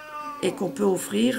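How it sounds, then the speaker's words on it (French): A pet cat meows insistently to be let outside, several drawn-out, rising cries following one another closely, heard after a brief bit of French speech at the start. "c'est mon chat qui miaule parce que monsieur veut sortir"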